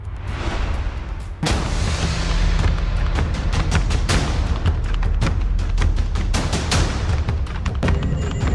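Supporters fire guns in celebration: a long, loud, dense barrage of shots and booms at close range, with sharp cracks stacking rapidly into a sustained roar.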